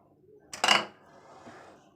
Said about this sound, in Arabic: هنزل عليه بوش الطاجن كده، هغطيه زي ما انتوا شايفين